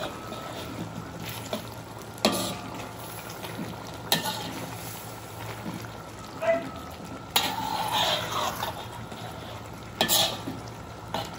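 Beef mechado sizzles in hot oil in a pan while a spoon stirs and scrapes the bottom, a continuous close crackle with periodic louder scraping bursts.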